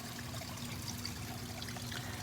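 Water trickling down the rock shelves of a small garden pond waterfall fed by a pump into a prefab peanut-shaped pond: a steady, fairly faint splashing trickle with a continuous low hum beneath.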